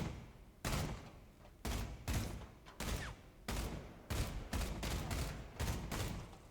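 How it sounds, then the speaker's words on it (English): Wrecking Ball's primary fire in the Overwatch video game, loud close bursts of rapid gunfire repeating about nine times, each volley a sharp punchy crack with a brief decaying tail. "So let's test this primary fire."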